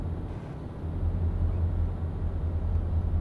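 Truck engine in Euro/American Truck Simulator, a steady low diesel rumble that swells slightly as it runs, continuous and fairly loud with no talk over it.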